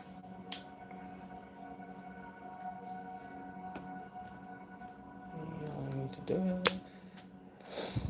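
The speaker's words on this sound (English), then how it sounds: "And it will shoot that one red stud inside of them." A Lego blaster fires a single red stud with a sharp little snap, followed by a couple of quick plastic clicks and rattles in a quiet room.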